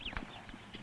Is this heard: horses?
yes